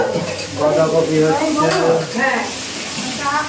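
Cabbage sizzles and fries steadily in a home kitchen pan, a close hiss underneath voices chatting over it.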